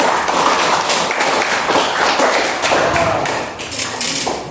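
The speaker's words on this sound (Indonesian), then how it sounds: "Tepuk tangan dulu untuk kalian ya." Classroom of students clapping together after finishing their presentations, a dense steady patter of hand claps throughout, fairly loud and close, with no talking.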